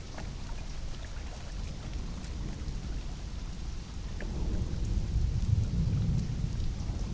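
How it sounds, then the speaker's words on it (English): Rain and rolling thunder in the video game Conan Exiles, a steady soft downpour with a low rumble of thunder swelling in the second half, no talking. "The rain always makes it so good as an ASMR video."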